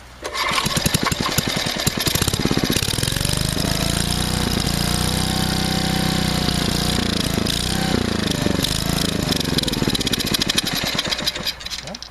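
Small engine sputtering and running roughly after a choke adjustment, coughing to life with uneven rapid firing pulses, surging and loud up close, then stumbling and dying away at the end.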